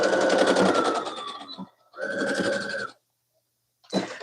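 A sewing machine runs in three bursts, stitching crisscross stitches to join a zippered scrunchie, with a buzzing motor and rapid needle pulses, close and fairly loud, and short pauses between runs.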